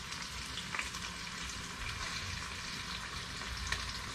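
Bacon-wrapped enoki mushrooms frying in a pan, Filipino style: a continuous crackling sizzle with scattered pops of spitting fat, close and steady, with no talking.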